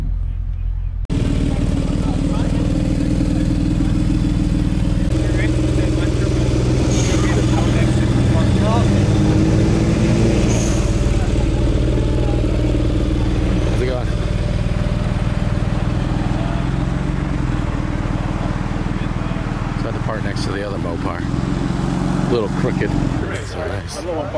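A turbocharged car engine runs and revs at an outdoor car show, steady and fairly close, with crowd noise and people talking over the engine for most of the stretch.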